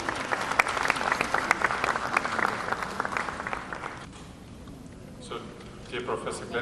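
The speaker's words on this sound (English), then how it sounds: "Please give him a warm applause." Audience applause greets a professor invited onto the stage at a medical lecture event, a dense wash of clapping that fades out around the fourth second, leaving quieter room sound with a few scattered claps.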